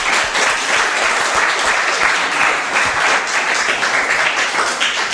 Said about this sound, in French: L'équipe de Poitiers peut applaudir au choix.